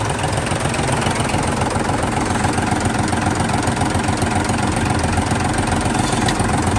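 A Hino 12-wheel truck's P11C engine runs at idle close by, a loud, steady rumbling drone with a rapid knocking pulse that never lets up.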